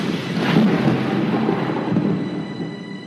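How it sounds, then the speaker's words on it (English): Thunder from a thunderstorm rolls as a deep, sustained rumble over about three seconds, swelling early and slowly fading, with no voices present. "As darkness fell, a thunderstorm struck and continued into the night."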